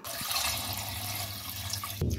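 About a litre and a half of water pours steadily into a pot for chicken soup, a continuous close splashing rush that cuts off near the end with a knock.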